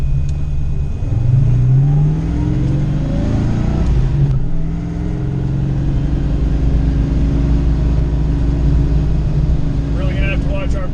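A Foxbody Mustang with a 408 Clevor engine swap accelerating hard on a track, its loud engine droning and rising in pitch through a gear, with someone talking over the roar.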